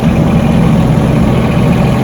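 A 2015 International 4300 truck with a refrigerated box body idles on its 6.7 liter Cummins turbo diesel, giving a steady, loud, low-pitched rumble with constant vibration throughout.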